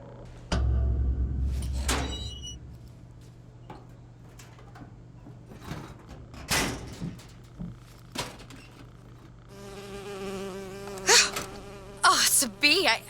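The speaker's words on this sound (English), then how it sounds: "Oh, it's a bee." A bee buzzes in Bioshock Infinite, a loud close drone that starts and fades, followed by thuds and clattering game sounds, then a whining buzz returning near the end.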